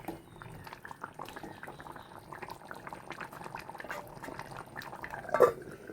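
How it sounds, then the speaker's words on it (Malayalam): Chicken curry with roasted ground spices bubbling at a steady boil in a pan, a dense continuous gurgle of liquid with small pops and a louder burst near the end, close by and with no voices. "ഇത് നന്നായി തിളച്ച് വന്നിട്ടുണ്ട്."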